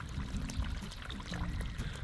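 Water pouring from the outlet of a larger pond pump, a steady splashing, gurgling flow that sounds close and continuous with no talk over it.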